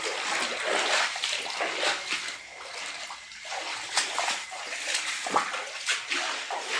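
Water in a flooded house room splashes and sloshes as it is bailed out, in uneven bursts of splatter. The splashing is moderately quiet, with short pauses between scoops.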